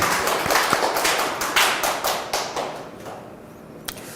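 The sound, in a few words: congregation clapping in church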